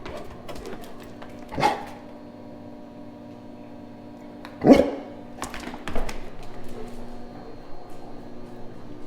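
A dog in a car shop lets out three sharp barks spaced several seconds apart, moderately loud and near, with quiet shop ambience between them.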